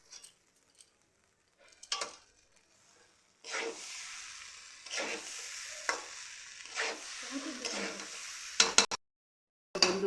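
Rice, lentils and fried vegetables for khichuri sizzle in a pan while a spoon scrapes them in repeated stirring strokes. The sound starts after a quiet opening and stays close and steady.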